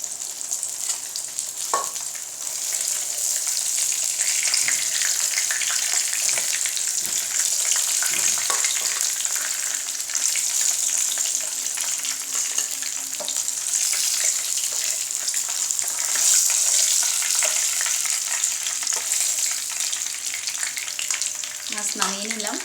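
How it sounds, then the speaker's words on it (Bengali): Hilsa fish frying in oil until brown, giving a loud, dense, continuous sizzle with occasional clinks and scrapes of turning the pieces. No one speaks. "ব্যাস এভাবে করে আমি মাছগুলো ব্রাউন করে ভেজে নিয়ে ফিরে আসছি।"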